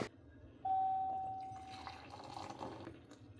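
Water poured into a cup or vessel, a steady filling tone that begins abruptly and slowly changes pitch as the container fills, close and clear over a low background hum.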